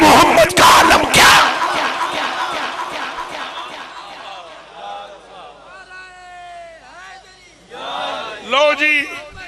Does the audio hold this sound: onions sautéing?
no